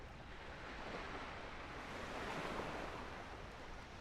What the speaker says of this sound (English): we're in the middle of the ocean